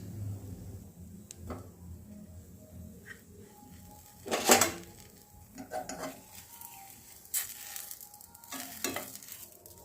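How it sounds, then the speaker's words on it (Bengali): Patishapta pancakes fry gently on low flame in a nonstick pan, a faint, steady sizzle broken by occasional scrapes and clinks of a utensil against the pan. "আমি পিঠাগুলোকে একদম লো ফ্লেমে ভাজবি"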